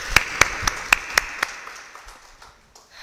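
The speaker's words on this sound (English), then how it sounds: "a big round of applause to all of you." Applause at an alumni meet of the Manipur State Rural Livelihoods Mission: a few crisp, evenly spaced claps come in a quick rhythm, then thin out and fade to near silence.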